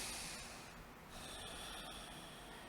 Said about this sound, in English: that low rumble, that ocean sound in the back of the throat